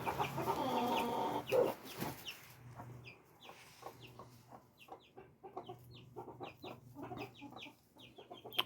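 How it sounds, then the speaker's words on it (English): A flock of Silkie chickens clucks nearby, soft repeated clucks and peeps scattered throughout, while a louder burst of rustling and commotion fills the opening seconds. "So little chickens just, you know, getting to know the family."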